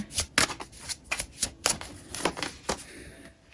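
Tarot cards being shuffled by hand, a quick run of crisp riffling bursts and soft flicks, close and fairly quiet, with no talking.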